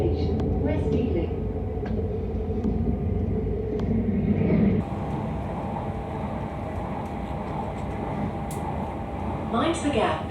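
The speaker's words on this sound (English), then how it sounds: "That train there was obviously a TfL Rail service." A TfL Rail train rumbles past near West Ealing on the Paddington to Heathrow line, a steady loud roar that shifts in tone midway and continues under faint background voices.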